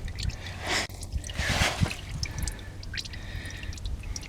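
ATF fluid drains from a ZF5 five-speed manual transmission, giving a faint, steady trickle with scattered drips and a few soft splashes nearby, with no one talking.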